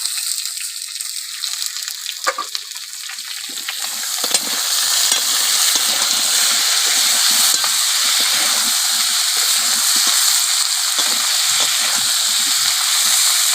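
Chopped tomato hits potatoes frying in oil, setting off a steady loud sizzle that swells after a quieter start and carries on with faint stirring scrapes, no voices.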